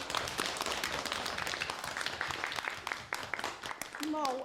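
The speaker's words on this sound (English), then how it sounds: "A nice big clap for the tall policeman." An audience claps for a tall policeman in a comedy sketch, a dense, steady patter of many hands under a speaking voice, ending with a brief rising tone.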